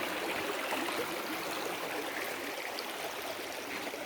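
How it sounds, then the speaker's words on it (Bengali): Steady rushing of a hillside waterfall stream, continuous and fairly close with no voices. "ঝর্নার পানি আসতেছে"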